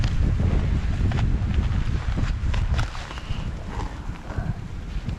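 Wind blowing outdoors among trees at a sheltered campsite, 10–15 mph gusts buffeting the microphone as a loud, steady low roar that eases slightly partway through; no talking.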